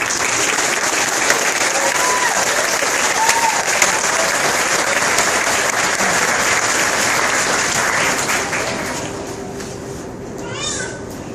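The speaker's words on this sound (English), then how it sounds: "Let's set them off with a big round of applause." Audience at the Weeki Wachee mermaid show claps in loud, sustained applause that fades toward the end, with cheering and a few voices mixed in.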